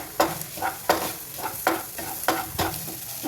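Spatula scraping and stirring eggs frying in a sizzling pan, a steady rhythm of strokes roughly every half second over a constant frying hiss.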